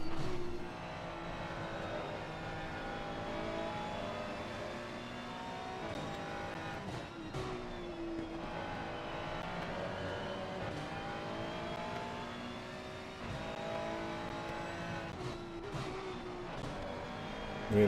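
A race car in a sim racing game at Brands Hatch revs hard through repeated gear changes, its engine note rising and dropping continuously, loud and up close.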